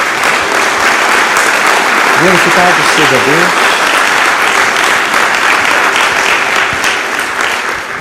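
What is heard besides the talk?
congregation applause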